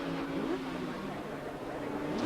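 Racing motorcycles, a Norton among them, roar past at Cadwell Park during a 1988 race, a fairly distant engine drone beneath a commentator's talk.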